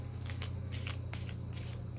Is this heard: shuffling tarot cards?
yes